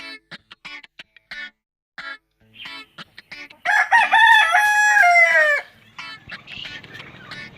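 On a small home poultry farm, hens cluck in short, scattered bursts before a rooster gives one loud, drawn-out crow close by, followed by more clucking.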